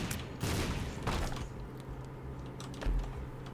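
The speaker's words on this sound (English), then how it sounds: "Of course, all I am firing is explosions." Explosive shots fired in the video game The Binding of Isaac: Afterbirth make a quick cluster of soft bursts and pops, with a few sharp hits at the start and another burst near the end, at moderate level.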